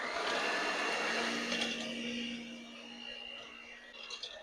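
Electric hand mixer fitted with whisks beating milky mashed potatoes for shepherd's pie, a steady loud motor whir with rattling beaters, easing slightly in pitch and level partway through.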